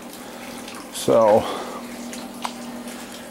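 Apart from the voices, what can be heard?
water draining from hot water heater in basement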